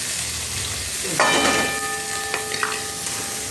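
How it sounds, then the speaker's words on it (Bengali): Chopped garlic and a large chopped onion with chilli hit hot oil in a pan, bursting into a sudden loud sizzle that settles into a steady frying hiss with brief stirring crackles. "নিয়ে নিয়েছি 4খানা রসুন কুচি আর একটা বড় সাইজের পেঁয়াজ কুচি। দিয়ে দিলাম তেলের মধ্যে।"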